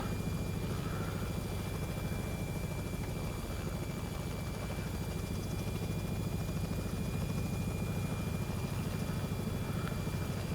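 A Robinson R66 helicopter in the X-Plane 11 flight simulator gives a steady, faint engine and rotor drone with a broad rushing hiss, sustained without break and without talk.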